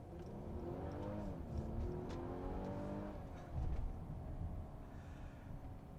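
A 2020 Mercedes-Benz CLS with an inline four-cylinder turbocharged engine and nine-speed automatic driving under steady load, its engine note holding at an even level throughout, with no talking.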